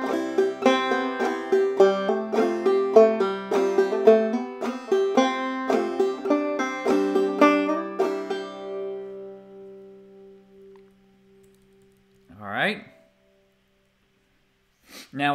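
Clawhammer banjo picks out a passage of the tune Wandering Boy, bright plucked notes and brush strums that ring and decay to near silence, followed by a couple of brief, faint voice sounds.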